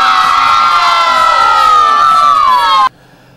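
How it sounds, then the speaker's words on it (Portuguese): Crowd of Balança Paracatu football supporters at a neighbourhood youth football project in Bairro Alvorada cheering and shouting loudly and continuously, with high voices mixed in, cutting off abruptly at the end. "nesse momento eu quero ouvir a torcida do Balança Paracatu"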